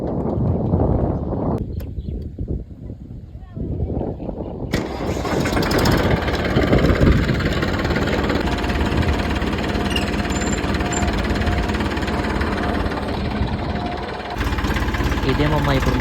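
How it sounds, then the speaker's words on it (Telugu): An Eicher 480 tractor with a wheel cultivator hitched on a farm cranks over, then fires up into a loud, steady diesel clatter that runs on near and continuous, with someone speaking over it. "ఇప్పుడు మనం బండిని స్టార్ట్ చేసి అయితే వెళ్ళిపోదాం"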